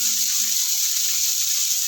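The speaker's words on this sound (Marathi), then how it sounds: "तर मी सर्व पनीर यामध्ये घालून घेते आणि फ्राय करून घेते पूर्ण." Cubes of paneer frying in a pan for spicy palak paneer, giving a steady, even sizzling hiss that carries on unbroken and close by, with no talking.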